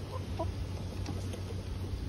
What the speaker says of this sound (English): And here comes another chicken.